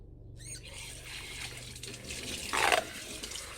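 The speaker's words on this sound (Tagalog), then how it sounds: "Ngayon maghugas muna ako ng plato." Tap water runs at a kitchen sink while dishes are washed at home, a steady gentle splashing with a brief louder gush near the end and no talk.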